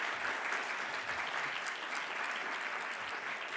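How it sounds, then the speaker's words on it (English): Audience applause for a planning team at a financial inclusion event, a dense, even wash of clapping from a sizeable crowd, soft and distant, continuing steadily without pause. "Just give them a round of applause."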